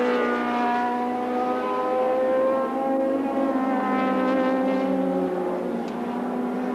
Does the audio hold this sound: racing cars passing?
yes